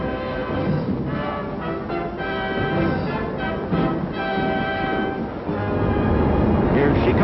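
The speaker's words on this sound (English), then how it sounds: "Here she comes, the Yankee Clipper. It's coming on the upper level." A 1942 Yankee Clipper passenger train pulls into the upper level of Grand Central Terminal's underground tracks, giving a steady, loud rumble with harmonic tonal whines and clanking throughout, close and continuous.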